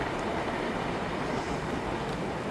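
Steady, dense rumbling roar of a fast-moving train on the Konkan Railway, Goa to Mumbai, continuous and unbroken throughout, with no voices.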